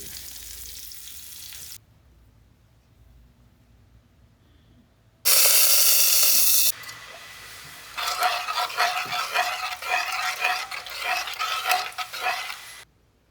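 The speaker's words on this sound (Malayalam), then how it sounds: "വറവിടാൻ വേണ്ടത് വെളിച്ചെണ്ണയിൽ ചെറിയ ഉള്ളി" Shallots frying in coconut oil for tempering, a bright crackling sizzle that bursts in loudly after a quiet stretch, then returns as an uneven spluttering fry with no talking.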